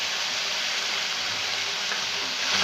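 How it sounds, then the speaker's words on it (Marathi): Eggplant, radish and mixed vegetables sautéing in a hot pan, a dense, continuous loud sizzle and hiss close by, steady throughout with faint stirring underneath. "आता हे सर्व आपल्याला चांगल्या परतून घ्यायच्या आहेत भाज्या"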